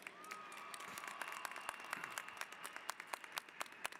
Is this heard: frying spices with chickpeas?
no